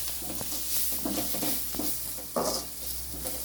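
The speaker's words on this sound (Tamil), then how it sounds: "அதான் வெங்காயம் வதக்கு தாளிச்சு போட்டுருக்குது கறி குழம்புல" Onions fry in a pan of meat curry, giving a steady soft sizzle broken by several scraping stirs, with one louder stroke midway.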